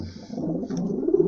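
Pigeons in a loft coo softly and repeatedly close by, a low throaty burbling that swells toward the end.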